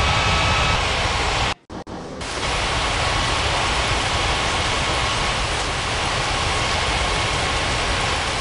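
An Air Asia airliner on approach to land produces a steady, loud broadband jet roar that briefly drops out before resuming at constant strength, with no voices.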